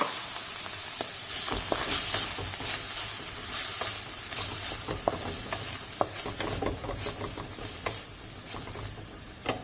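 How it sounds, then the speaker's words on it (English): Tofu frying in a pan with two spoons of oil, giving a steady close sizzle broken by scattered sharp crackles and pops, heard alone without voices. "I've added 2 spoons of oil, and now I'm going to add this tofu into this."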